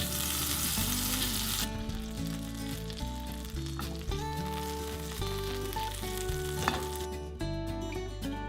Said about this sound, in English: Add butter into your pan.